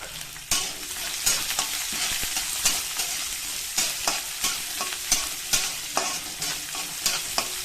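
Onion, green chilli and grated ginger fry in a pan, a loud continuous sizzle broken by regular spatula stirring strokes every second or so.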